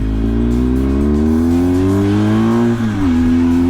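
A motorcycle carrying a passenger climbs a hairpin road in Piedmont, its engine note loud and close and rising steadily under acceleration, with a brief dip like a gear change near the end.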